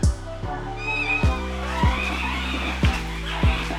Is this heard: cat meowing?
yes